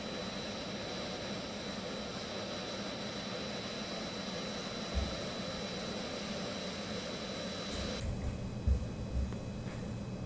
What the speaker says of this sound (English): And our engine is now starting.